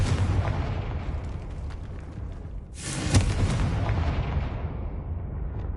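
A Confringo spell from the PS5 game Hogwarts Legacy fires off with a sharp burst midway through, ringing over a constant dense rumble of combat noise and ambient game sound, loud and close.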